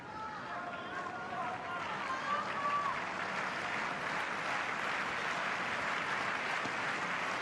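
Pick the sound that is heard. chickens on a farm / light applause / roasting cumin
light applause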